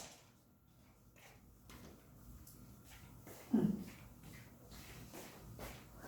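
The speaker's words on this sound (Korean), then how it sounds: "거기 사무실에 보면 그 서랍 열어봐" A desk drawer in an office slides open with a single short scrape and thump, fairly close, amid a quiet room with low background hum.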